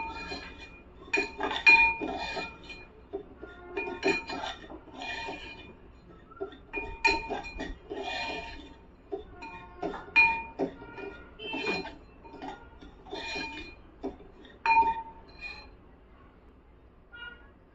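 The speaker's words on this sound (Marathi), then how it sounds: "हे छान प्रकारे परतून घ्यायचं." Ground wheat powder being stirred and roasted in a pan for wheat kheer, with frequent light metallic clinks and scrapes of a spoon against the pan in an irregular rhythm, close and moderately quiet.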